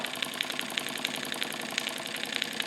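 A Wilesco D455 model steam engine at operating temperature runs steadily with a quick, even chuffing and clicking rhythm, fairly quiet and mechanical, with a constant faint hiss underneath.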